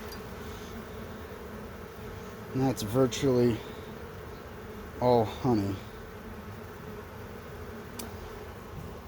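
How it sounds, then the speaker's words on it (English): Honey bees buzz steadily at an open hive during a spring inspection, a continuous close drone with a voice speaking briefly over it twice. "Bees, get out of the way."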